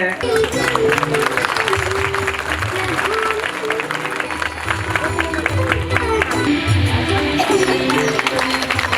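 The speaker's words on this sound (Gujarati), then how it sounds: "ફરીથી એકવાર જોરદાર તાળી" Loud, sustained applause from a festival crowd at the Shri Lokpal Mahadev temple consecration ceremony in Sanvav, dense clapping filling the whole stretch over a steady musical drone.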